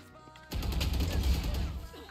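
Gunfire in the Valorant shooter game, a sudden dense burst of shots that starts abruptly and rolls on continuously, fairly close and heavy in the low end.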